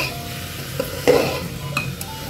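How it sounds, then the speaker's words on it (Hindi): Spiced tomato curry mixture being stirred and fried in a pot, with a soft continuous sizzle and a few scraping, clinking spoon strokes against the metal, close and fairly quiet. "इसे अच्छे से मिक्स कर लीजिए,"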